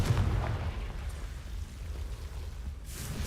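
The Confringo blasting spell cast in Hogwarts Legacy, heard as a low booming burst at the start that fades into a rumbling, crackling tail, with no talking over it.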